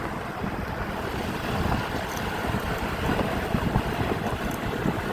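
Steady wind roars and buffets the microphone over a broad, continuous rush, with a faint wash of water in the background, on an expressway during a storm.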